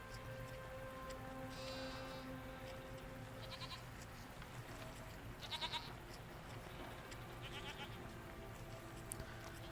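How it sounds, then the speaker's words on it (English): Faint, short bleats from goat-like animals in the video game SEASON, scattered over a few seconds against a quiet hum and light rain-like background. "What are these strange goat-like creatures? Are they simply goats?"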